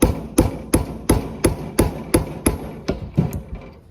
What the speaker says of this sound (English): I'm going to hammer the center so that